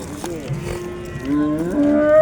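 A cow at a cattle market in Chust moos in a long, drawn-out call that rises in pitch and grows louder toward the end, close by over a low murmur of market noise.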